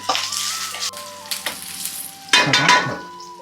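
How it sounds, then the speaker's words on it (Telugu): Thinly sliced onions fry in hot oil with a steady sizzle and crackle, while a spoon stirs and scrapes the pan in a few louder bursts, close up and without speech. "సన్నంగా కట్ చేసుకున్న ఆనియన్స్ కూడా వేసుకొని బాగా ఫ్రై చేసుకుందాం"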